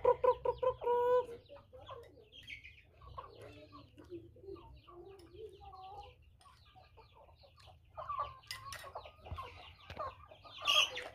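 Chickens clucking close by as they gather for feed, a quick run of loud clucks at the start followed by softer scattered clucks and calls, with a louder burst near the end.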